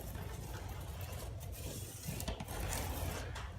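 Fingernails scrape along a textured knockdown ceiling corner, giving a faint, close, continuous raspy rubbing sound heard alone.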